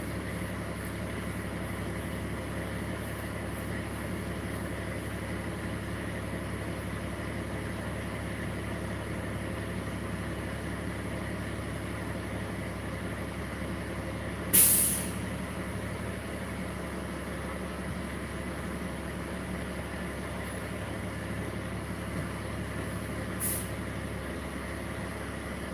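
Distant road traffic with trucks passing, a steady low rumble throughout, a sharp air brake hiss near the middle, and a fainter hiss later.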